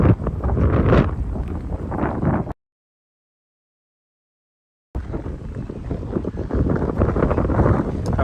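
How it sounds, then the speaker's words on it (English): Strong gusty wind buffets the microphone beside the water in Strängnäs, Sweden, a loud low roar that cuts out abruptly to silence for a couple of seconds before returning just as heavy. "Oh, now it's super windy here."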